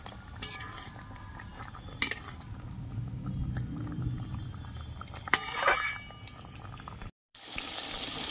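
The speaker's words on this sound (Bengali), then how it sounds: "ঝোলটা ভালো মতন ফুটে উঠেছে।" Pumpkin kofta curry gravy bubbles at a steady boil in a pot, a continuous low burbling broken by a few sharp spoon clinks and stirring sounds.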